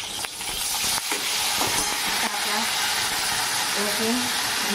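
Mustard seeds, cumin and chilli sizzle and crackle in hot oil for a kadhi, a continuous frying hiss with scattered pops and stirring scrapes, and a voice speaking faintly underneath.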